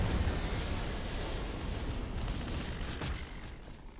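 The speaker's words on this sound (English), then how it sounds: "when the first gunship blows up, there's an explosion in the wall there which opens up the way forwards" A gunship blows up in Half-Life 2 Episode 1 at Nova Prospekt, blasting open a wall: a loud, dense explosive roar that rumbles heavily at first and then slowly thins out.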